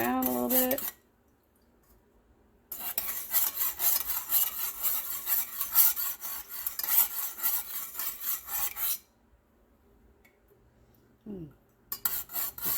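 A utensil stirs melted lotion bar ingredients with cocoa butter in a pot, a loud rasping scrape that runs for several seconds, stops, then briefly starts again after a quiet gap.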